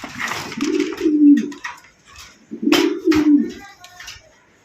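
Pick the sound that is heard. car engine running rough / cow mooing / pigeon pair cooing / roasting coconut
pigeon pair cooing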